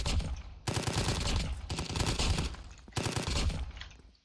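A fast-firing weapon in a shooter video game rattles off dense automatic bursts, three long strings of rapid shots with brief gaps between them.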